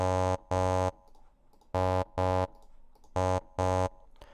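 Synthesized sung "ah" vowel with two added higher formants, six steady buzzy tones in three pairs, each about a third of a second, separated by short quiet gaps.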